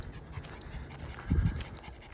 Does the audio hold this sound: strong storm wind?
no